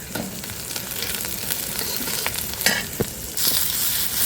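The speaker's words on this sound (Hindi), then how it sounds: "अब हल्के से तेल में टमाटर भी रोस्ट कर लेंगे" Tomatoes sizzle and crackle in a little hot oil in a pan, with occasional stirring scrapes and a brief louder hiss near the end.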